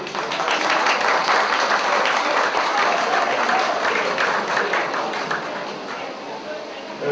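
At a school alumni meeting, an audience applauds to approve a proposal, dense sustained clapping from many hands filling the room for several seconds before it tapers off.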